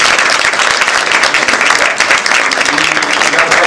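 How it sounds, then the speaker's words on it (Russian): An audience at an evening honoring theatre director Adolf Shapiro at the House of Actors breaks into dense, sustained applause, close and loud throughout the short stretch. "Адольф Яковлевич Шапира, аплодисменты."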